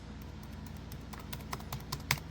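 Typing on the shallow-travel keyboard of an HP EliteBook 725 G2 laptop: quiet, irregular key clicks close up, growing denser and sharper toward the end.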